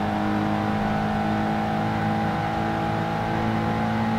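A race car engine in Project Gotham Racing 2 drones steadily at high revs on the Track Special Series, a loud continuous whine with a slight pitch shift partway through and no talking.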